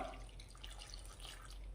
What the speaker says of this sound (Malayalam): ഇനി നമ്മൾക്ക് കഷ്ണങ്ങളൊക്കെ വേവാൻ പാകത്തിനുള്ള വെള്ളം കൂടെ ഒന്ന് ഒഴിച്ചു കൊടുക്കാം